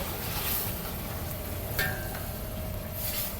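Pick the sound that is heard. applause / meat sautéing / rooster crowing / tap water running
meat sautéing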